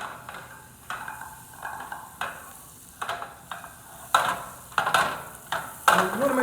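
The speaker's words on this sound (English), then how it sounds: "you want to make sure you sear the pork on all sides" Pork searing in melted butter in a pan: a low steady sizzle with repeated sharp scraping and stirring clatters roughly every half second to a second, growing louder toward the end, with no voices.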